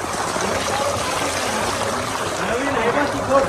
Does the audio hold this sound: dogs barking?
no